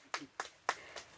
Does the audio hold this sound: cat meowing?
no